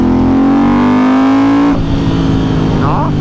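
A Ducati Hypermotard 1100 engine, loud and close, holds a rising rev from a throttle hit, then drops sharply into a rough, burbling idle-like roar with a brief second blip near the end.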